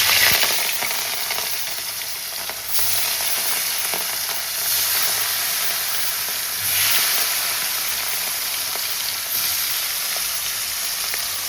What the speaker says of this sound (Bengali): আর এখন আমি এখানে মাছটা ভেজে নিচ্ছি।